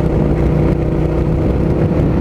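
A Suzuki SV650 motorcycle riding along unfamiliar roads, its engine a loud, steady, close drone mixed with wind rush, continuous without a break.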